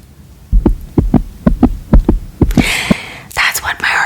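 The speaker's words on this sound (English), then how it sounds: "Let me just edit in a heartbeat for you." An edited-in heartbeat sound effect pulses about eight times in a steady, close double-thump rhythm over roughly two seconds, then gives way to soft breathy noise and whisper-like hiss in an ASMR setting.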